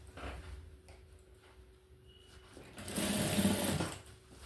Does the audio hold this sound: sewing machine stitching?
yes